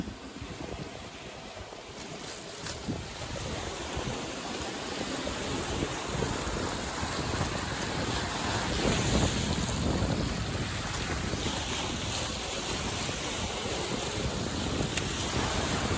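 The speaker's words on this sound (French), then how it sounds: "avec le bruit des vagues et le vent, c'est plutôt bruyant." Lake Champlain waves wash steadily against the shore while wind buffets the microphone, a constant rushing roar with no voices.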